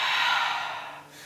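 A single audible exhale during a home Pilates exercise, a close breathy rush that fades over about a second.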